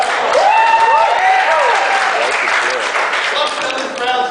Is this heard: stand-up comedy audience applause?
yes